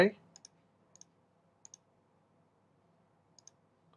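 Sharp, faint computer mouse clicks come in quick pairs, spaced apart over a quiet room hum, with a brief louder noise at the very start.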